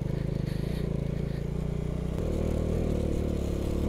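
Motorcycle riding through heavy snowfall on Sach Pass, a continuous low engine drone with rumbling, scraping road noise, steady and close throughout, with no talk.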